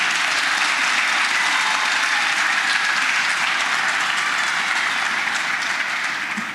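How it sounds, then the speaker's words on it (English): A large crowd applauds steadily at a South African political party event welcoming a new municipal leader for Nelson Mandela Bay, the clapping dense and sustained throughout, fading slightly at the very end, with no voices over it. "Let's give Retief a huge round of applause for that."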